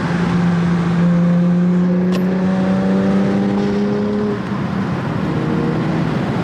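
A Honda Accord V6 with a 6-speed manual drives on twisty back roads, its exhaust droning steadily and loud from inside the car as the engine note slowly climbs, then eases off.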